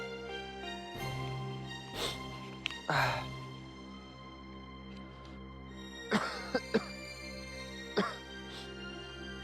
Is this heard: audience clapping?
no